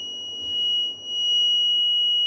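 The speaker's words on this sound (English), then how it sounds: "Buzzer sound came." A buzzer on a Gerber GERBERcutter Taurus beam communication board under repair sounds at power-on: one steady, unbroken high electronic tone that holds for the whole stretch over faint low bench noise.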